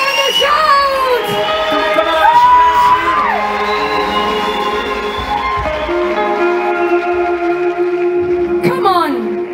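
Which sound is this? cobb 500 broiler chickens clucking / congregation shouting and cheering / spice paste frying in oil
congregation shouting and cheering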